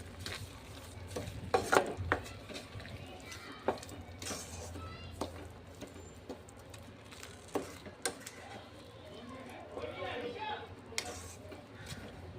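Sugar being stirred into carrot halwa (gajar ka halwa) in a pan: quiet scraping and clinking strokes of a spoon against metal, irregular and fairly close, over a soft low background.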